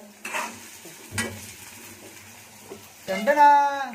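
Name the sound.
frying beans, cauliflower and capsicum in a pan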